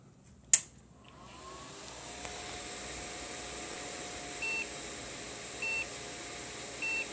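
PC at power-on with a PCI diagnostic card fitted: a sharp click, then a steady fan hum rising, with short electronic beeps repeating at regular intervals of just over a second near the end, no voices.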